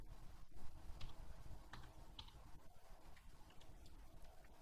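Keys on a computer keyboard tap out the number 1500, a few faint, quick clicks spaced across a quiet room.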